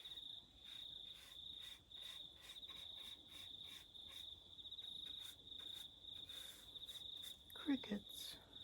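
Crickets chirp steadily throughout in a continuous high trill, with a brief louder rustle or thump near the end.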